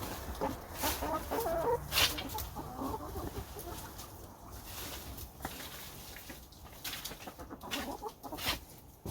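Hens cluck steadily around a hot compost pile in a cold winter climate, a busy flock of overlapping calls close by with no one talking.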